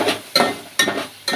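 Spinach with ginger garlic paste sizzles in a pan while being stirred, the loud hiss pulsing in about four quick rhythmic scrapes of the spoon.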